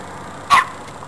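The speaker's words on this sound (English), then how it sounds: "And this is Tiny Puppy, who thinks he's a BA" A small puppy lets out one sharp, loud bark up close, a single brief yip standing alone against quiet outdoor background.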